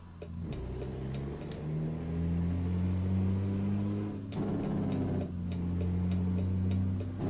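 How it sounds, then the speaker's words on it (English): A truck in American Truck Simulator gives off faint, regular clicks over a steady engine drone that rises and falls, with a few sharper ticks standing out and no one speaking. "I like the clicks. I like to be able to hear when it engages."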